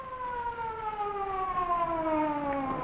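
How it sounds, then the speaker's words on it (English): An ambulance siren wails loudly and steadily, its tones sliding slowly downward as it sounds alone. "Sounds like an ambulance."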